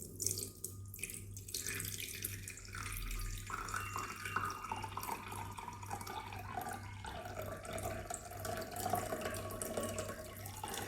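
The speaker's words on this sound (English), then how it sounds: "Let me pour this water and relax." Water is poured in a steady, continuous trickle that splashes and gurgles quietly throughout, faint and close, with no talk over it.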